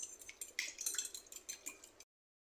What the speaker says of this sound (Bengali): আমি একটু ফেটিয়ে নিচ্ছি।